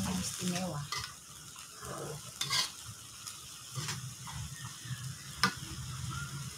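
Tempe and green chilies being stir-fried in a pan, a steady sizzle with repeated scraping and stirring strokes of a utensil against the pan, close and continuous, with no talking.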